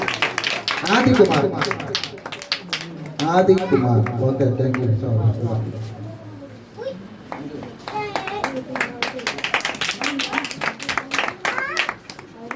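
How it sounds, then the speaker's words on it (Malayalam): An audience at a Christian fellowship gathering claps during a children's prize-giving: a spatter of many hands that builds after someone speaks over a microphone, continuing under his brief announcements. "കൈയടിക്കണ്ടേ നിങ്ങൾ?"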